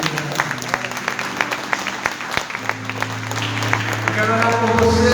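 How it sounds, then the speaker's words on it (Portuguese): A church congregation applauds during a Sunday morning worship service with sustained, dense clapping that carries on throughout, while steady keyboard tones play underneath. "Vamos aplaudir o Rei,"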